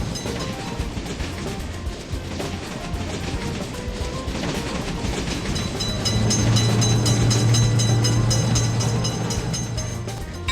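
A train rolls through a level crossing on a railway line, its continuous rumbling and wheel clatter swelling midway and holding loud, with a steady low droning tone riding over the passing cars.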